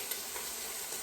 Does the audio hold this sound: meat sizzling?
yes